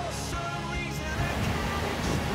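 Iguazu Falls pouring down right up close, a steady, dense roar of crashing water with broadband wash and no pauses throughout.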